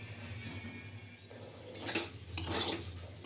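A spoon scrapes and clinks around a pan as food is stirred over low heat, with soft metallic strokes that grow louder and busier toward the end and a faint sizzle underneath.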